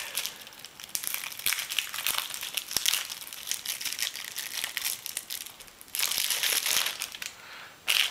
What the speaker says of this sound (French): On va procéder à l'ouverture du deck